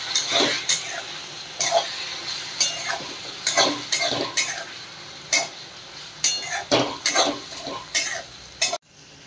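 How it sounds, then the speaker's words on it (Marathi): Spoon stirring tomato puree and yogurt together in a metal cooking pot for vegetable pulav: repeated scraping and clinking strokes in an irregular rhythm, close and fairly quiet, ending abruptly. "ते दही घालून हे आपल्याला एकत्र सगळं घोटून घ्यायचं आहे"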